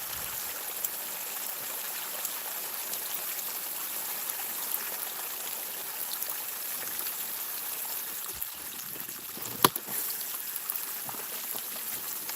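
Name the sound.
water flowing through after a blockage cleared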